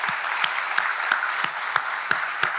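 Audience applause for Rockdale County staff at a state of the county address, a steady broadband wash of clapping with sharp periodic claps standing out, moderately loud and sustained throughout.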